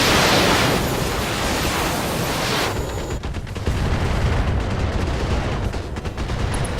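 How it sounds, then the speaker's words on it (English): Mechs in the video game Battletech fire volleys of rockets, a heavy roaring rush of launches and impacts that stays dense and loud, then turns to a rumbling crackle of blasts. "Just clouds of rockets"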